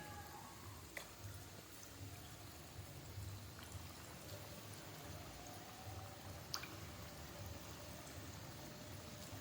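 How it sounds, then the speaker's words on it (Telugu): Badusha dough frying in hot oil, giving a soft, steady bubbling sizzle with a few faint pops, heard alone at low level. "బాగా ఆయిల్ బాగా వేడైంది కాబట్టి వేసిన వెంబడే మనకు ఆయిల్ కూడా నొరగ్గా బుడగలు బుడగలుగా వచ్చేస్తుంది"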